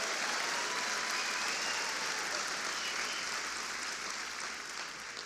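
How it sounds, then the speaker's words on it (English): Large audience applauding at a National Urban League address, a continuous wash of many hands clapping, steady and full throughout without a break. "Let's give Wonder Woman a big round of applause."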